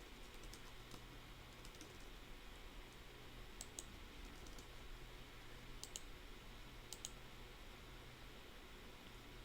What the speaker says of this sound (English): Let me just type in Cleveland Browns quickly.